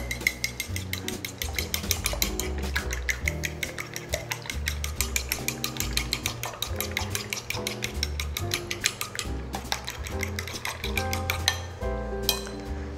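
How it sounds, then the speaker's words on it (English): Three eggs whisked together in a bowl, a fast continuous rattle of metal whisk against the dish, steady and close, with no voice over it. "So I'm gonna take 3 eggs and go ahead and whisk them together."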